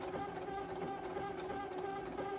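Sewing machine stitching a short test seam on a handmade top, a fast even whirring chatter with a steady tonal hum, quiet and close, running without pause.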